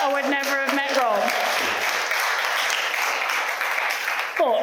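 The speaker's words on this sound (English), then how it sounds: "we do have to give a round of applause to Pete" Wedding guests in a barn break into a warm, sustained round of applause that follows a speaker's voice and fills the room for several seconds.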